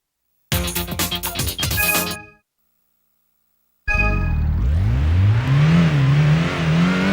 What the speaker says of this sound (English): That's what the engine sounds like if you place your head inside the engine compartment while the car is going.